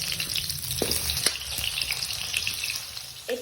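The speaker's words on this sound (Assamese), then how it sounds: "দুটা আলু ভালদৰে কাটি লৈছো এইকেইটাখৰ আমি ফ্ৰাই কৰি ল'ম" Potatoes fry in hot oil in a home kitchen pan, a steady close crackling sizzle with occasional sharper pops and a brief clink near the end, with no voices.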